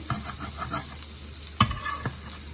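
Egg and vegetable omelette pieces frying in a pan, a steady sizzle with soft scraping stirs and one sharper clack of a utensil partway through, no voices present.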